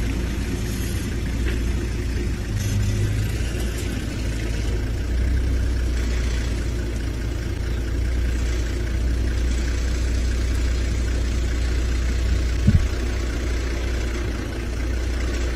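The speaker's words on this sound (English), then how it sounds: "I do apologize about the vehicle noise" Safari vehicle engine idling at sunset in the African bush, a continuous low rumbling drone, steady and close, with faint wind underneath.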